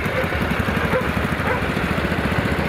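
A vintage Moto Standard tractor engine runs at a traction engine rally arena in Whitby, a loud, steady, close chugging idle that carries on alone throughout.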